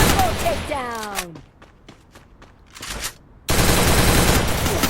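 Rapid automatic gunfire bursts and single shots in a shooting video game, loud and close, broken by a short quieter gap with scattered shots before a dense final burst.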